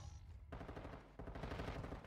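Gunfire in Call of Duty Warzone 2 Zombie Royale, rapid bursts of automatic shots that are faint and distant, in two runs separated by a short pause.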